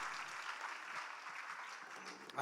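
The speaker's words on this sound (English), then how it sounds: "audience, please give them a big round of applause" Faint, distant audience applause for contestants at a live speaking competition grand finale in Delhi NCR, a soft even wash of clapping that swells briefly at the very end.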